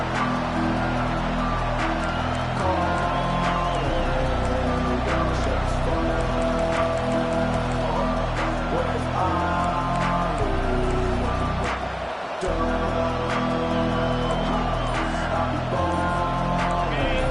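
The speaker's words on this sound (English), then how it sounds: "They challenge this crowd to bring the energy, and I'd say they're doing that." Dense, continuous roar of a football stadium crowd cheering during a game, loud and steady throughout with a brief dip near the middle, while a commentator talks over it.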